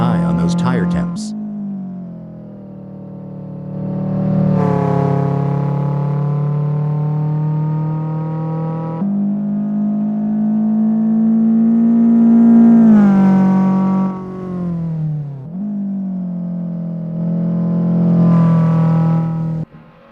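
Renault Clio Williams race car engines in Assetto Corsa, sim racing around Barcelona City Circuit reversed, droning and revving steadily with rising and falling pitch through gear changes, loud and continuous with brief lifts, under commentary.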